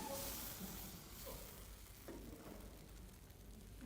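Pancake batter sizzles in an oiled pan during a vegetarian cooking demonstration, a soft, continuous frying crackle with a few faint utensil touches. It sounds close but fairly quiet and is heard without talking.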